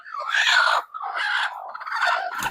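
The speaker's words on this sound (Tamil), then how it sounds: "அடுத்தது கோழி நாட்டுக்கோழி சிறுவிடி இருக்குது பெருவிடி இருக்குது" Native country chickens in a farm shed give a few bright clucking calls in three bursts, close and fairly loud, with no other sound between them.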